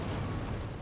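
A laser cannon blasts an AT-ST walker into an explosion in the video game Star Wars Jedi Knight II: Jedi Outcast, a dense, loud roaring burst that fills the whole short moment with rumbling noise.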